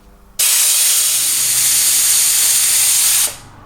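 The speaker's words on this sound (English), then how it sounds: "I'll pull that so we'll get the air flowing and check the pressure" Air rushing out of a tire through a deflator valve, a loud, steady, close hiss that starts abruptly, holds for about three seconds, then tapers off.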